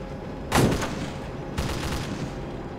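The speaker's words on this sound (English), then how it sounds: "Watch it, we're taking fire." Two distant gunshot bursts crack out in an online multiplayer video game, the first sharper and louder, the second softer about a second later, over low background rumble.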